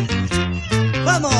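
A voice makes a loud, drawn-out meow during a live 1980s cuarteto performance, with several rising and falling cat-like cries in quick succession, apparently a human singer imitating a cat.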